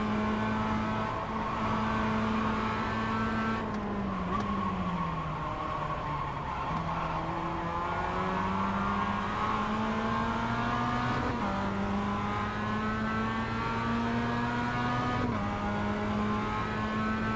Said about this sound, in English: I almost blew up my engine there.